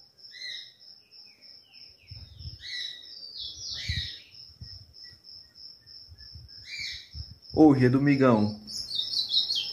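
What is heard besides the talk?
young ultramarine grosbeak singing softly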